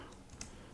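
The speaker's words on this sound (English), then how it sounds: "like I will type in ba.org," Faint, brief keystrokes on a computer keyboard while entering a web address in Linux Mint, with one crisp click standing out against quiet background hiss.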